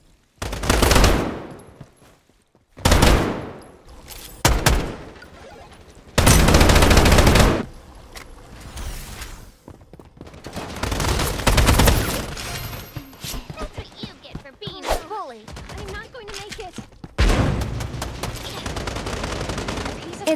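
Bursts of gunfire in the Strinova team shooter game, several loud rapid volleys separated by short pauses, with sharp impacts and game sounds between them and a voice heard at times.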